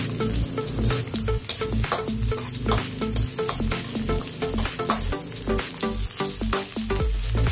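Garlic frying in a pan, a dense crackling sizzle punctuated by frequent sharp spatters and stirring knocks, loud and close with no talking.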